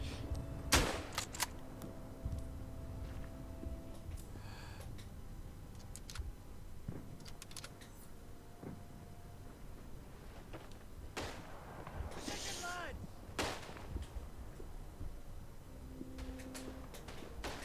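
Gunfire rattles through a World War I video game battle in a trench assault: sharp shots and short bursts crack out at irregular intervals, some close and loud, others scattered further off.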